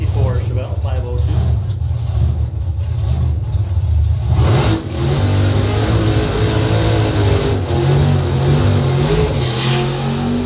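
At a drag racing event, a 1964 Chevelle drag car with a 502 engine revs loud and near, rising into a strong roaring surge midway and holding a harsh drone, under an announcer's voice early on.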